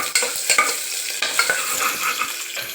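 Green chillies dropped into hot oil in a pan, a bright crackling sizzle with quick stirring scrapes and clatters close by, no one talking.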